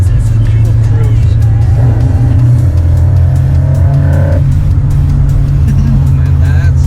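Steady low drone of an Isuzu car engine cruising in fifth gear, loud and continuous from inside the cabin, with a faint voice underneath at times.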